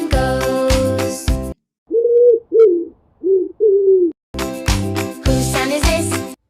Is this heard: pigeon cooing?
yes